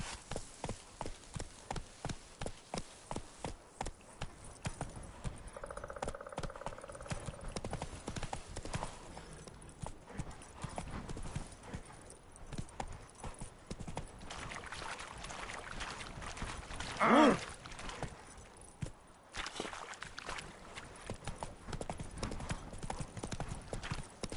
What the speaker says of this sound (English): Come on, horse, get out of here.